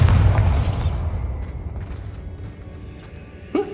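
A Bombarda blast spell goes off in Hogwarts Legacy, a loud low boom at the start that rumbles and fades over a few seconds, with a short sharp pop near the end.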